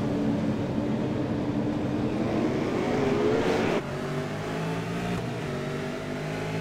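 Race car engines roar continuously in the iRacing sim at Bristol Motor Speedway, a loud steady drone of several cars with a rising pitch that cuts off abruptly, then a lower sustained hum as the field runs on.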